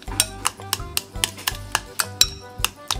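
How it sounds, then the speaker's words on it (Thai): Ripe Nam Wa bananas are mashed in a bowl for a banana tart. A utensil strikes the bowl in steady, evenly spaced clinks and taps, about four per second, close and clear, with no talking. "บดกล้วยน้ำว้าให้ละเอียดเลยค่ะ"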